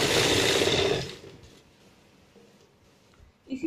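A sewing machine runs briefly for about a second, stitching a salwar seam with a quick whirring burst, then falls silent apart from faint handling noises.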